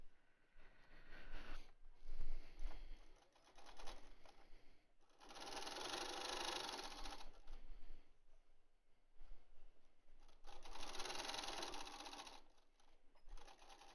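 A sewing machine stitches long fabric mask ties in bursts, with two louder sustained runs of rapid mechanical chatter separated by quieter handling and shuffling of cloth, fairly close.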